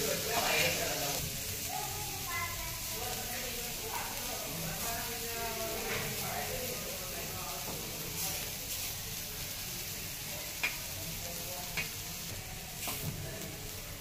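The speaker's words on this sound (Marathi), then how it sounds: "आणखीन आपल्याला 2 ते 3 मिनिट परतून घ्यायच्या घ्या." Bitter gourd slices sauté in a pan, giving a steady, even sizzle and hiss of frying that carries throughout, with occasional faint clinks of stirring.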